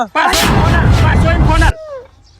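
A gunshot sound effect for a comedy sketch: one loud, sustained burst of gunfire lasting over a second, then cutting off abruptly into a brief faint tail.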